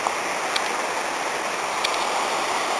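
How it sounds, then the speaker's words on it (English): River rapids rush beneath a road bridge near Betws-y-Coed in Wales, a loud, steady broadband roar of tumbling water with no break. "There's a rapids going under the road bridge."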